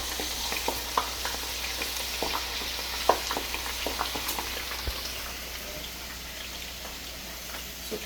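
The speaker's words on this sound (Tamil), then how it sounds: "சூப்பராக முருக்கங்காய் போட்டுட்டு பொரியுது" Drumstick (moringa) pieces frying in oil in a vegetable curry, a steady soft sizzle with scattered crackles and pops, close and unaccompanied by speech.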